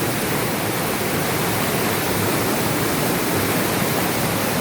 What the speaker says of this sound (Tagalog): Grabe, nag-wild ng tubig, mga idol.